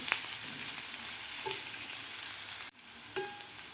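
Chopped onion frying in a pan for dhaba-style kaju masala, a steady close sizzle with a couple of light utensil taps, then a sudden drop in level near the end before the frying resumes more quietly.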